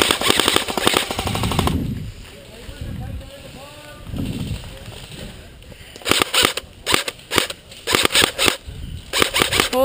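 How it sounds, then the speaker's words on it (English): Airsoft guns fire in rapid automatic bursts during an outdoor bomb game, loud and close, with short clattering volleys separated by pauses, wind buffeting the microphone and players shouting in between. "Just shoot away at them, we're just a distraction."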